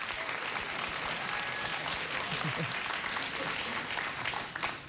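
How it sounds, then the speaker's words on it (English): Studio audience at a late-night talk show clapping loudly and continuously, a dense wash of applause that holds steady throughout. "You're just clapping to shut me up."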